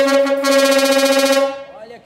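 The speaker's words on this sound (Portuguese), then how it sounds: "tá aí o Corsinha saindo agora com uma buzina de caminhão" An imported truck-style air horn fitted to a GM Corsa blares one long, loud, brassy blast up close, lasting over a second before cutting off.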